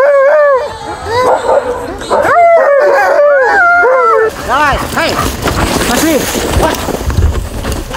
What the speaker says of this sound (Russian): Волнуются, рычат и обгавкивают друг друга.